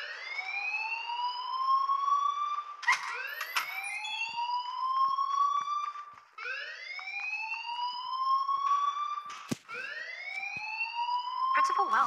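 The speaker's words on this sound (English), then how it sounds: "please turn off that alarm since that's your job" A school fire alarm rings through the halls of Blackwell Academy in the Life is Strange video game, a loud rising electronic whoop repeating steadily in long sweeps for the whole stretch.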